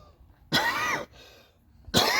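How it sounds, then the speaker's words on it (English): Two harsh, close coughs about a second and a half apart, with a quieter breathy sound between them, next to a Chevrolet Tahoe. "let me get my COVID cough out."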